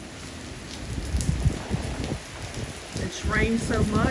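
Heavy rain pours steadily as Hurricane Delta makes landfall in Louisiana, with strong winds and a pool overflowing through its skimmer; a dense, continuous wash with a faint voice speaking under it partway through.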